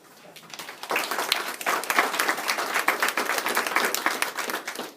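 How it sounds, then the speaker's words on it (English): Audience applause at a school FFA student honors ceremony, clapping swelling quickly in the first second and then holding steady and moderately loud to the end. "So we'll give her a round of applause."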